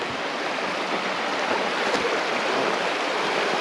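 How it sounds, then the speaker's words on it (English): A creek flows steadily beside a rustic campground, a dense unbroken rush of water that stays loud and even throughout, with no voices. "right beside this creek"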